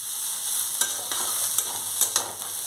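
Bottle gourd peel is stir-fried in a pan with a constant low sizzle, broken by several sharp scraping knocks as it is stirred, with no talking.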